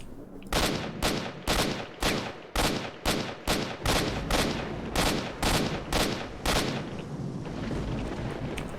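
Repeated gunfire in STALKER: Shadow of Chernobyl, a dozen loud, evenly spaced booming shots at roughly half-second intervals, then a rumbling wash as the firing fades out.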